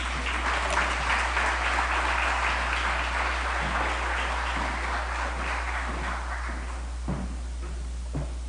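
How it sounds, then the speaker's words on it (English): An audience at a political campaign rally in Trinidad and Tobago applauds a United National Congress candidate for San Fernando West, steady crowd clapping that continues for several seconds and gradually thins over a low hum. "Please give him a round of applause again."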